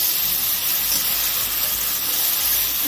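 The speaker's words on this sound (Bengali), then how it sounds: "একটু ভালো করে ভাজা করে নেব।" Water lily stems frying with grated ginger in a pan, making a close, even, steamy sizzling hiss throughout with no talking.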